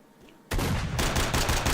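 Gunfire in the video game STALKER: Shadow of Chernobyl erupts suddenly after a quiet moment, a loud, dense burst of repeated shots that carries on to the end.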